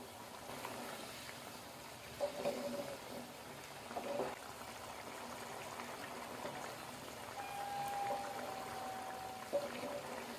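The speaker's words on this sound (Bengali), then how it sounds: "এবার আমি জল দিয়ে দেবো" Water is poured into a pan of lentils and spices fried for street-style ghugni, a steady moderate wash of liquid noise running the whole time with a few faint clinks.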